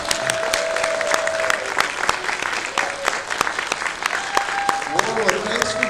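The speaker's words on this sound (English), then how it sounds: "Please give a warm, second to Nashville round of applause and welcome for Mr." A convention Q&A audience in Nashville gives Warwick Davis a warm welcome with loud, sustained applause. Sharp individual claps stand out over the crowd, a few whoops rise, and voices sound underneath.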